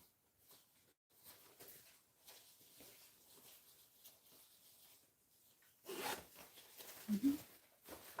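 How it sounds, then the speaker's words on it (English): An invisible zipper on handmade pants is zipped up close by, as a quiet run of fine rasping ticks over several seconds, ending in a slightly louder burst of zipping and rubbing. "zip that up"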